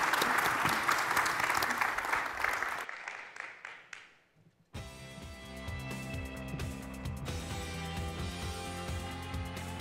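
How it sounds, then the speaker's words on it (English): An audience at a conference session on data collaboration gives a loud round of applause that tapers off over about four seconds, then music with steady beats fades in. "let's give them all a round of applause for really working to create impact at scale"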